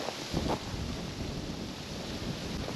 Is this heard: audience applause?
no